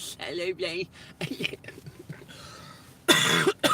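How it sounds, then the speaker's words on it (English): Several sharp coughs burst out near the end of a stretch of laughter and talk, loud and close, with a throat-clearing quality. "Laughing makes me cough."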